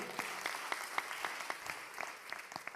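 Scattered clapping rises from a church congregation during a sermon, faint and somewhat distant, with distinct individual claps standing out in a loose rhythm over a soft wash of applause.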